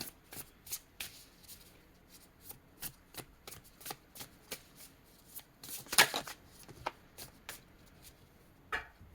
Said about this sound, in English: So I'm going to get these last cards out.